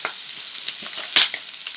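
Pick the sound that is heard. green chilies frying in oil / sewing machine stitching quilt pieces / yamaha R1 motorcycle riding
green chilies frying in oil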